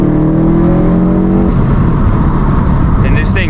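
A 500 hp E85 Subaru WRX STI accelerates hard under full boost, its loud, close engine note climbing in pitch before spreading into a dense, sustained roar.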